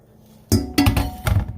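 Food being put back into a skillet while making taco lasagna with tortilla shells, giving three separate clattering clinks of metal and utensils against the pan, close and fairly loud, with no talking.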